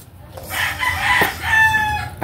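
A pet rooster crows loudly and close by in one full cock-a-doodle-doo lasting about two seconds, with faint clucking from other backyard chickens around it.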